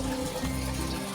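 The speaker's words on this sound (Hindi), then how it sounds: "पानी डाल रही हूँ पेड़ों में" Water poured from a bucket onto trees on a rooftop, a steady continuous gushing wash with a low flowing rumble, close and unbroken from start to finish, with no talk.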